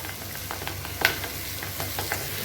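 Spoonfuls of egg batter fry as fritters in a pan, a continuous close sizzle with small crackles and a few sharp clicks of utensil against metal; no voices.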